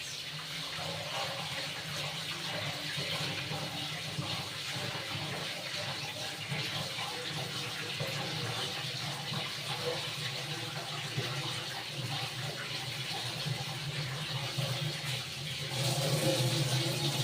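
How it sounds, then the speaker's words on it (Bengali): Kitchen tap running steadily while things are washed beneath it, a continuous close gush of water with small splashing variations, growing slightly louder near the end. "সব কিছু ধুয়ে নিই"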